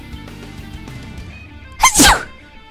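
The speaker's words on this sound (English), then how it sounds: "I feel a sneeze coming on." A single loud, sharp sneeze bursts out after a few quiet, faint background sounds, then fades quickly.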